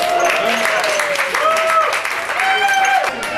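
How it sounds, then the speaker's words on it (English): An audience at a charity event claps as placings are announced, a steady wash of applause under a voice speaking over it, with some tonal sounds mixed in. "Round of applause."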